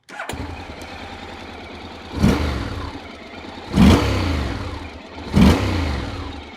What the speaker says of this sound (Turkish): Boşa alıp çalıştıralım motoru.